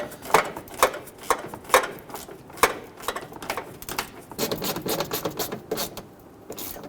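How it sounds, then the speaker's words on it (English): A ratchet and socket snug down the bolts of a front bumper cover on a 2011-2023 Dodge Charger, giving rapid close clicking bursts in short runs separated by brief pauses, with no talking. "grab your ratchet and your socket and snug those down"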